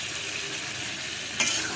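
Vegetables sizzle as they are stirred into a spiced curry masala in a pan for a curry with gravy: a steady, close frying hiss, with one brief louder scrape near the end.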